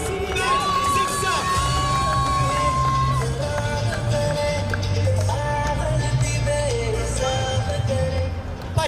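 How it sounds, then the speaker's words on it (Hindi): Crowd cheering and shouting at the mega final of a local cricket match, loud and continuous throughout, with excited voices and whoops over a steady roar and some speech mixed in. "जोरदार तालियां नागनाथ एंड सागर के लिए"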